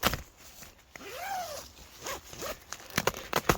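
A zipper on the door of an Archeos UL 2P three-season tent is drawn open in a few quick, close rasping pulls, with soft fabric rustles around them and a quiet background.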